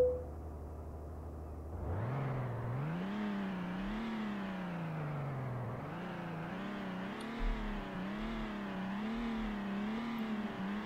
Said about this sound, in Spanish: lo único es que tenemos que escuchar el motor desde el interior